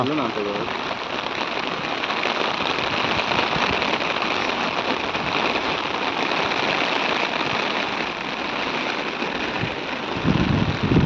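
Steady rain falls in a continuous close hiss, with drops pattering on surfaces and a low rumble underneath.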